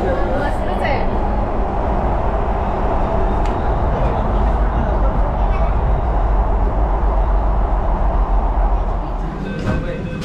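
A Pune metro train running underground fills the carriage with a loud, steady rumble and rushing noise, with voices faintly mixed in throughout.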